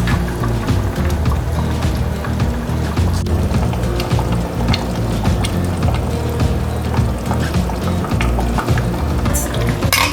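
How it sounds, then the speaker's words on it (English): Steady bubbling and hissing of liquid boiling in a pot of chicken afritada, a dense continuous rumble with occasional small pops, no talking. "Now it's boiling."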